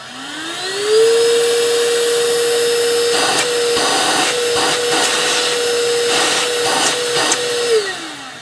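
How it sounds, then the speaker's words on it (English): A Ryobi SWIFTClean cordless spot cleaner's vacuum motor spins up to a loud, steady whine and drone, close by, with brief rustling bursts as it works, then winds down at the end, with nobody talking. "the on-off switch button in the back is the vacuum."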